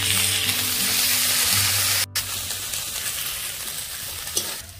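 Ground spice paste with onion, green chili and tomatoes frying in a pan for an egg and potato curry, a dense close sizzle that breaks off briefly, then returns softer with scattered spatters.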